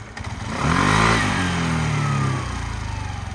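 A Suzuki Address V125 S scooter engine runs near and steady, swelling briefly around a short rev before settling back to a smooth, quiet hum.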